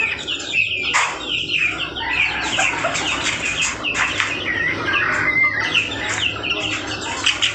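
Polan chickens on a village chicken farm cluck and chirp continuously, close by and lively, with overlapping calls from several birds and no talk.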